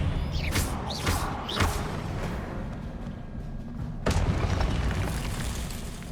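Spell-casting effects from the video game Hogwarts Legacy, with a dense rumbling combat bed, several whooshing zaps in quick succession and a booming hit midway, all loud and close.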